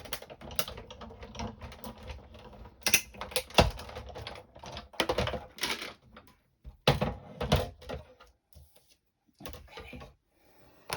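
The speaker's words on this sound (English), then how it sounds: "You'll be able to hear me cranking the wheel." The wheel of a die cutting machine is cranked by hand, giving a close series of uneven mechanical clicks and clunks in short bursts separated by brief pauses, fairly quiet overall.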